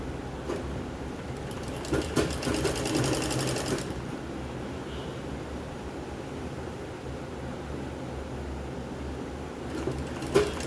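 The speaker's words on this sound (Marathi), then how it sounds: "मी हे तुम्हाला दाखवण्यासाठी शिवत आहे।" A sewing machine stitches the front part of a Katori blouse in quick rattling bursts, with a long continuous run near the start and short runs later, over quiet room noise.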